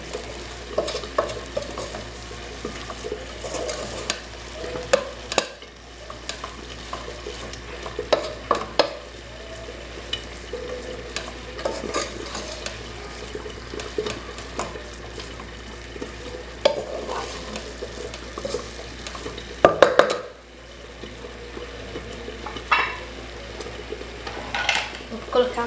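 A spoon stirs ground beef sauce in a pan, scraping and clinking in irregular strokes over a soft, steady sizzle, heard close, with some talk now and then.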